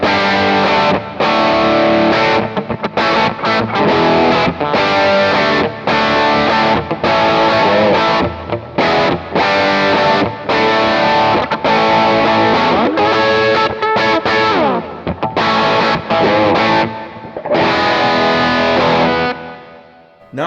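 Electric guitar on the bridge pickup through a Kemper profile of a '62 Princeton amp with a 10-inch speaker, brightened for chime. Continuous, loud, driven playing with strummed chords and short breaks, no voices.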